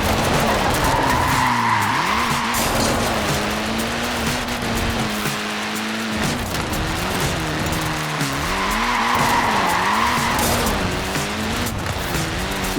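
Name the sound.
tyres skidding on a Mini car in Forza Horizon 4 video game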